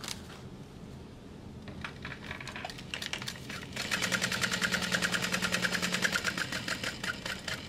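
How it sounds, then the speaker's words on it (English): A sewing machine stitches over the top of a pocket, quiet at first with a few clicks, then a steady, close, rapid mechanical whir with a rhythmic needle tapping for the last few seconds. "I am actually sewing just a teeny tiny 1 stitch over the top of the pocket for stability."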